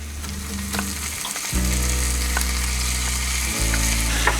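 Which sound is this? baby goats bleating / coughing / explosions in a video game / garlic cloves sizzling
garlic cloves sizzling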